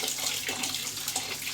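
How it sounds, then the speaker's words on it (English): Boiling water from a kettle poured over mashed summer fruit in a bowl for homemade wine, a continuous splashing, gurgling pour heard close up without talk. "I'm just going to add some boiling water over the top of this."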